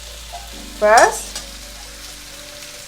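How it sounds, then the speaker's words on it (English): Chicken and ginger sizzle in a hot wok during kung pao chicken prep, a loud burst of frying and stirring that flares briefly near the start and then settles to a quiet background hiss. "So on this side, I'm frying the chicken, and this side I'm going to add the ginger"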